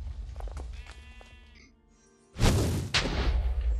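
In the Blightfall video game, a sheep bleats softly with a wavering, drawn-out call, followed by a sudden loud burst of explosive rumble and crackle that drowns it out.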